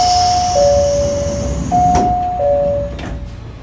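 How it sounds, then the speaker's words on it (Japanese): Door-closing chime at Rumoi Station in Hokkaido: two repeated two-tone electronic bell phrases ring out clearly over station ambience, with faint clunks of the train doors sliding shut. "さあ、列車の扉が閉まります。"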